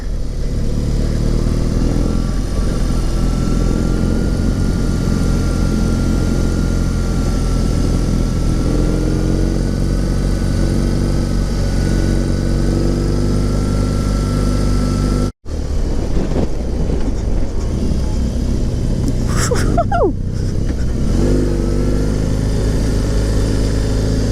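A BMW R18 motorcycle climbing a steep mountain road in Costa Rica in first gear, a loud, steady engine drone held close throughout with a brief dropout and some wind buffeting.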